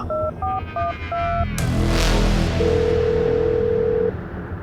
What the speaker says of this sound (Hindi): रोहन ने मन ही मन मुस्कुराते हुए राधा को फोन लगाया।